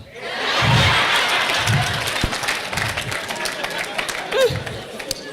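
An audience at a comedy show bursts into applause, a dense swell of clapping mixed with crowd chatter and scattered laughter, loud at first then thinning out over several seconds.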